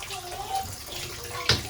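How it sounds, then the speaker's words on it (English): A bathtub fills as water runs from the tap, a soft steady rush with a brief louder splash near the end, mixed with faint household sounds. "Plug in, water on, bubble bath."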